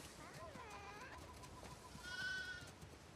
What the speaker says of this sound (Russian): У нас явно овец больше, чем нужно.